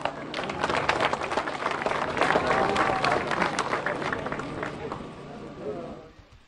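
Audience applause at an outdoor housing handover ceremony in Tarija, a dense burst of clapping that swells, holds and gradually thins out, with crowd chatter underneath.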